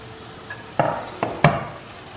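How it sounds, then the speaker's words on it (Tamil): Cut paneer going into masala in a pan for a creamy paneer curry, a few distinct knocks and clinks of spoon against pan spaced a fraction of a second apart, close and alone. "இப்போ நம்ம வந்து கட் பண்ணி வச்சுருக்கிற பன்னீர் ஆட் பண்ணிடலாம்."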